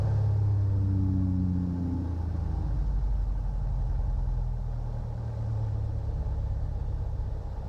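A Cirrus aircraft piston engine idles steadily at 1000 RPM, a low, even droning rumble heard from inside the cabin, continuous throughout without voices.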